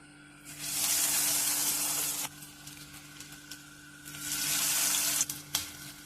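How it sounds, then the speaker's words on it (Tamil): Cauliflower pieces coated in bread crumbs sizzle and fry in hot oil, a loud steady hiss that swells, drops away briefly mid-clip, then surges again, with faint clinks near the end. "இப்போ நம்ம ரெடி பண்ண இந்த காலிஃப்ளவரை பிரெட் க்ரம்ஸில் இப்படி டிப் பண்ணி நம்ம எண்ணெயில் பொரித்து எடுக்க வேண்டியதான்"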